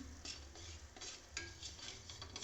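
Ground black pepper being sautéed in melted butter in a pan for tomato soup, with soft stirring scrapes over a faint, steady sizzle, quiet and close.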